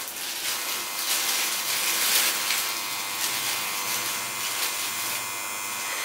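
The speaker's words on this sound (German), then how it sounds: "Und dann habt ihr noch einen normalen Shaver." An electric shaver hums and buzzes steadily after its button is pressed, a close, bright continuous whir with slight fluctuations lasting several seconds and no talking.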